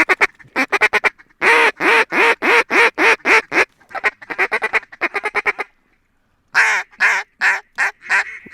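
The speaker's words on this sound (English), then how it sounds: "Here's some ducks." Ducks quacking loudly and close during a duck-shooting outing, long runs of rapid, rhythmic honking quacks broken by short pauses and one near-silent gap.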